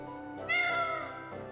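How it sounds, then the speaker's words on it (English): A single drawn-out cat meow from the video game Tales of Vesperia: Definitive Edition, close and clear, rising then falling in pitch over a quiet, steady background. "Also, that cat noise is horrifying."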